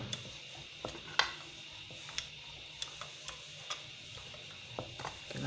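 A turnip paratha with thinned edges cooks on a hot tawa, giving a quiet, even sizzle with occasional light ticks and taps of the pan, faint and close, with no one talking.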